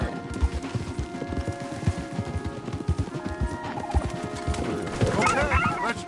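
Horses' hooves clopping steadily on a forest trail in the video game Red Dead Redemption 2, several animals close by, with a whinny and birdsong rising near the end.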